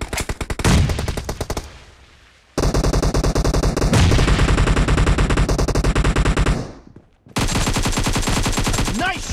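Dense automatic gunfire from a PUBG Mobile team match in an arena, loud sustained bursts of rapid shots broken by two short silent gaps, continuing to the end.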